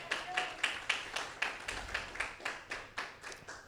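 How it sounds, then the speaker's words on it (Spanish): A church congregation claps during a sermon, a faint, steady run of about a dozen rhythmic claps in unison, distant and thin with no voices over them. "Le damos un fuerte aplauso al Señor,"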